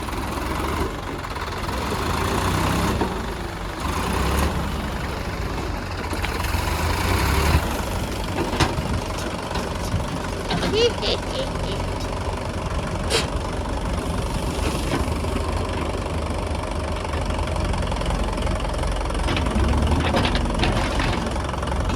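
A Mahindra tractor engine labors steadily and loud, a continuous heavy rumble with knocking texture as it strains to pull out, with no pauses and some clatter on top.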